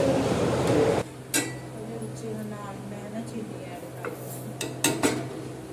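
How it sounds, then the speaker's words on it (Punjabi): Kheer with sugar being stirred in a metal pot, a spoon scraping and clinking against the sides in a few sharp bursts, with a steady kitchen hum and a voice speaking at times. "ਮੈਂ ਇਹਨੂੰ ਮਿਕਸ ਕਰਕੇ ਹੁਣ ਇਹਦੇ ਵਿੱਚ ਚੀਨੀ ਐਡ ਕਰ ਦੂੰ"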